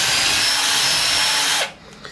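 A power drill whines loudly and steadily while reaming out a push-pin hole on a GSG 5 .22 rifle, then stops abruptly, leaving a quiet pause with a faint click.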